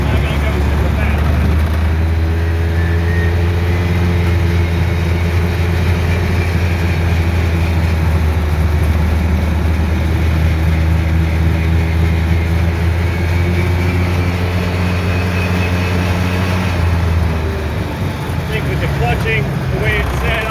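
A 2013 Polaris RZR 800S side-by-side with a rebuilt engine drives slowly in low gear, a loud, steady engine drone with a deep hum that shifts slightly in pitch near the end, and a voice talks over it.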